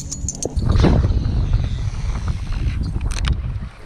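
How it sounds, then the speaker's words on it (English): Wind gusting across a fishing boat, a loud low rumbling buffet on the microphone that swells and stays steady for a few seconds, with brief faint higher clicks. "Ooh, that wind feels good there"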